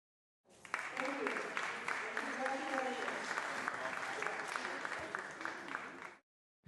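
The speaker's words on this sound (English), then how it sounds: "Let's give him a round of applause." Applause from a legislative floor audience at the California State Legislature, a sustained wash of clapping that starts abruptly, holds steady for several seconds with some voices mixed in, then cuts off.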